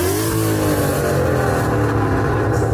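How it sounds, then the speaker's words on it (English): A 2017 Ford Mustang engine revs hard and continuously, a loud, close, throaty roar that holds steady throughout. "You can rev it, but not like. So please show me how."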